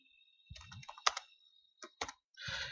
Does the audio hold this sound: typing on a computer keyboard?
yes